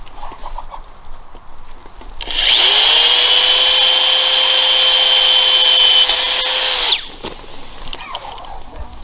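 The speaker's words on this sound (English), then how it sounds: "pre-drill a hole through the wood and the metal" A power drill whirs steadily at high speed for several seconds, pre-drilling a hole through wood and metal, loud and close, then stops abruptly.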